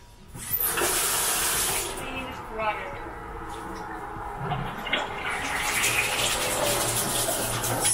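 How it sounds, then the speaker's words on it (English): An apple rinsed under a running kitchen tap, with a steady stream of water splashing and shifting as the fruit is turned, close by and fairly loud, while a person talks over it. "I'm going to rinse the apple nice and quickly"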